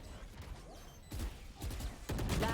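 Gunfire in a Valorant esports match at a live community tournament: a dense, steady run of shots and impacts that rises in bursts around the middle and end, with no voices over it.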